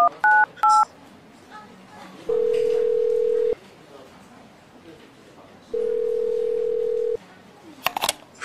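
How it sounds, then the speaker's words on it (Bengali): Telephone keypad tones as a number is dialled on a phone, a few short beeps followed by two long steady dial-tone stretches and a last burst of brief tones, clear and close with no talking. "5টায় উদ্বিগ্ন হয়ে বেরিয়ে পড়ার আগে আবার ফোন করলাম"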